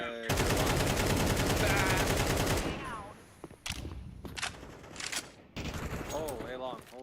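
A FAMAS rifle in a competitive shooter video game fires a long, loud, rapid automatic burst. A few scattered shots follow, with voices talking over the later part.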